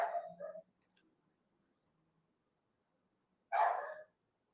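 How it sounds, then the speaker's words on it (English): A pet dog barks indoors, a short pair of yips at the start, then quiet, then another sharp bark a few seconds later, moderately close. "it's my doggy barking at my daughter."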